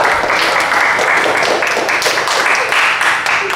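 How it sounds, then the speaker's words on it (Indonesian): A classroom full of students applauds after a group presentation, giving dense, steady clapping from close by that carries on throughout, with some voices mixed in. "Bisa tepuk tangan."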